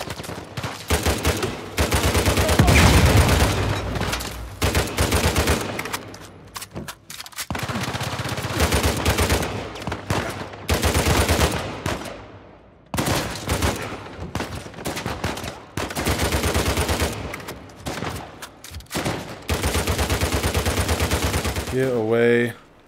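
Bursts of rapid automatic gunfire from a heavy gun in Uncharted 4, loud and close, coming in several sustained volleys separated by brief pauses, with faint voices underneath.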